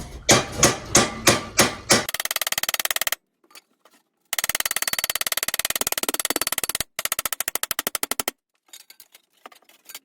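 A ball peen hammer strikes metal held in a bench vise while an intercooler part for a compound-turbo 6.5 diesel is shaped. Several heavy separate blows come first, then long runs of fast, ringing rapid-fire taps with short pauses, close and sharp.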